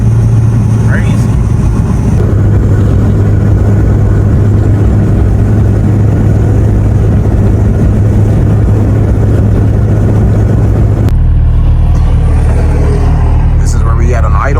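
A Mitsubishi Evo with a fully built engine idles with a loud, steady low rumble and a constant drone, shifting to a slightly different tone near the end, with no speech over it.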